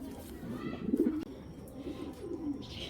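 Belgian-line racing pigeons coo in low, throaty murmurs that swell and fade over a few seconds, fairly close, with a faint chirp or two in the background.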